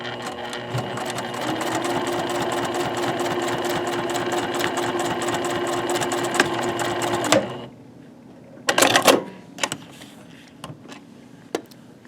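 A sewing machine stitching a line along a fabric edge, running steadily with a close, rapid mechanical whir for about seven seconds, then stopping, followed by a few clicks and handling noises.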